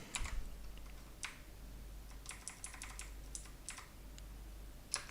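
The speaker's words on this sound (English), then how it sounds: "So type that in there" Typing on a computer keyboard while entering Japanese text, a sparse run of crisp close key taps with short bursts of rapid keystrokes and pauses between them, one louder tap at the end, no voices.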